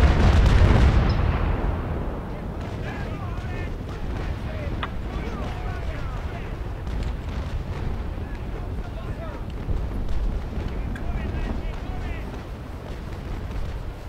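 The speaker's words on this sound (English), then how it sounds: "Watch out for the fort's guns, guys." Heavy cannon booms from a fort in a naval combat video game, one strong blast at the start and then a continuous low rumble with distant thuds, mixed with people talking over it.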